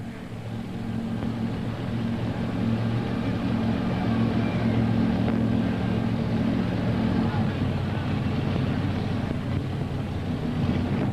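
The pulling tractor Wicked Willies roars at a 1996 indoor farm machinery show tractor pull in Louisville, Kentucky, as a steady, loud, low engine drone that holds level for the whole stretch.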